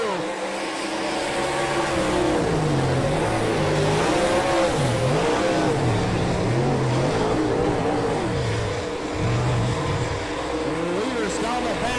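Dirt track race cars roar through a heat race down the back straightaway, engines revving and rising and falling in pitch as they pass, loud and continuous with an announcer talking over the action.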